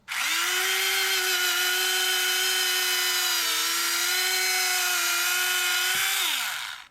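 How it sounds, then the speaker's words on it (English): Small power drill boring into a model ship part, a steady high-pitched motor whine held close and loud for several seconds, dipping slightly mid-run and winding down at the end. "I can bring my drill in more or less at a 90 degrees to the surface of the"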